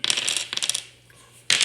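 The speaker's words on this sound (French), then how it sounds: "José a le droit à ses 2 dés rouges et Mélodie, elle a ses 3 dés noirs" Dice clatter and roll across a tabletop during a game of Risk, two quick bursts of rattling close up, a pause, then another roll.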